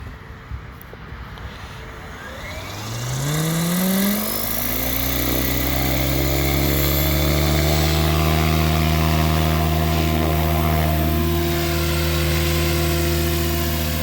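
A Mikado Logo-class RC helicopter's electric motor spools up from a standstill, a rising whine climbing in pitch over about four seconds before settling into a loud, steady drone of rotor and motor at constant head speed.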